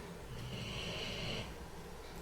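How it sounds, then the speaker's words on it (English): A pet snores steadily with a rough, breathy rasp, close by and fairly quiet, with no one talking over it. "Do you have to snore in every video?"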